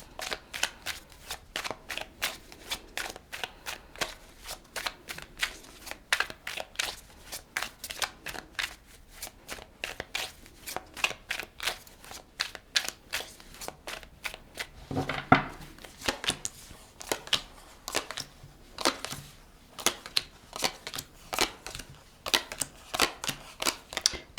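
Tarot cards are shuffled and drawn in a long run of crisp, rapid riffling and flicking, with steady clustered bursts and brief pauses, close and fairly quiet, without any voice.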